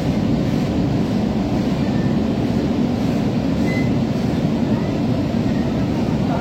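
A Kolkata Metro Orange Line train runs steadily from Kavi Subhash New Garia toward Hemanta Mukhopadhyay Ruby station, a loud, continuous low rumble and roar with a faint high whine above it, unbroken throughout.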